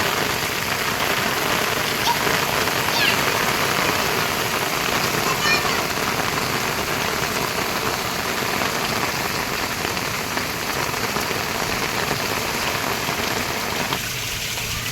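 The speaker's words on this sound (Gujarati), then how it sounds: "ખરેખર પણ બહુ જ મસ્ત વરસાદ પડે છે" Dense, steady rain patters hard on surfaces without a break, heard from a rooftop, a continuous wash of noise with a faint engine hum beneath.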